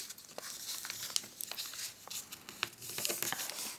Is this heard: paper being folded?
yes